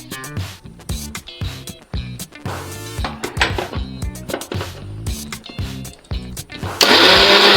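A kitchen blender grinds red lentils and cleaned shrimp into a coarse paste in short, loud, whirring pulses, ending in a sustained high roar.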